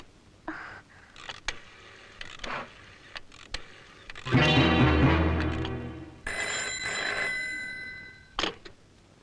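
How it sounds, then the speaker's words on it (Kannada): A telephone rings in bursts, a bright trilling bell repeating between quieter knocks and clatter, fairly close. "ನಾನು ವಿಜಯ್ಗೆ ಫೋನ್ ಮಾಡ್ತೀನಿ."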